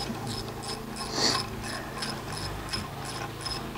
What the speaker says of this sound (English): So this is a speed wrench.